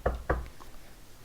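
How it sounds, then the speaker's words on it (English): Two sharp knocks on a wooden surface about a quarter second apart, close and dry, followed by faint room noise. "knock on wood"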